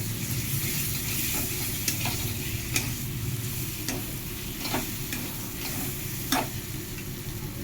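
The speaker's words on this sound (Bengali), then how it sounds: "পরে একটু আলুটা কষানো হবে।" Steady sizzle of potatoes frying with spices, with periodic scraping taps of a spatula against the pan at a loose, regular rhythm.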